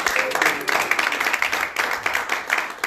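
Congregation clapping in a church service, a continuous dense patter of many hands applauding together at steady loudness across the whole stretch, with faint voices mixed in.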